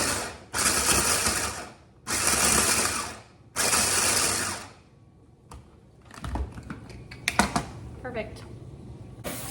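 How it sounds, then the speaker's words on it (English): A food processor chops vegetables for a homemade chicken pot pie, running in three loud, whirring bursts of about a second each, followed by quieter clatter of the bowl and someone talking nearby. "processor do the chopping for me since it's already out"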